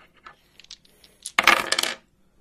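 Dice roll and clatter across a table during a Command & Colors: Napoleonics board game, a brief rattling burst of about half a second after faint ticks.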